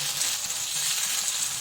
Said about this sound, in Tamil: மிளகாய் போட்டு வதக்கணும்.